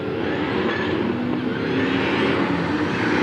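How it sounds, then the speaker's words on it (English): A supercharged Camaro roars loudly and continuously at a drag strip during a hot rod event, a close, dense engine drone. "That Camaro sounds like it got a supercharger in it."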